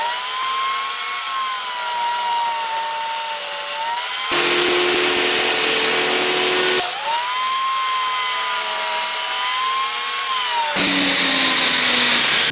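A power tool shaves walnut wood for a sofa arm table top, running loud and steady with a high whine that shifts pitch as it bites in and eases off across several passes.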